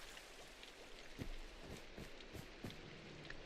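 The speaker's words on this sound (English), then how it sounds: "The glass doesn't stop the rain particles from coming down." Steady rain falls in a Minecraft world, a soft continuous hiss with scattered drops patting on surfaces, fairly faint and with no talking.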